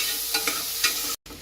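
Onions frying and stirred in a pan for chicken biryani, a close steady sizzle broken by a few scraping stirs, alone with no voices.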